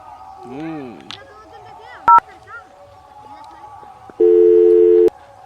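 A phone call rings while the caller waits for an answer, one short tone and then a longer steady ringback, clear and close, with a voice muttering and sighing before it.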